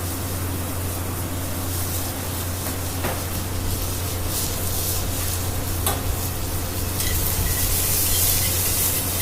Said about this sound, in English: Into my pan, I'm going to put my sliced onions